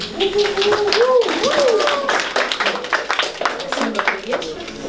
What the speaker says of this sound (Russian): давайте ее поддержим аплодисментами